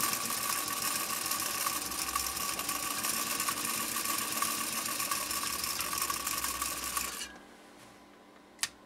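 A 1935 Singer 95-60 industrial sewing machine running fast in one loud continuous mechanical whir that stops abruptly near the end, followed by a single sharp knock.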